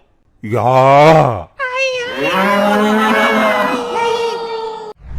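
A buffalo gives two loud, drawn-out moos close by, first a short call and then a long sustained bellow, with a cartoonish, crowd-like backdrop.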